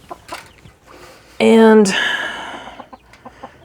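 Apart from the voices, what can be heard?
chickens clucking in a coop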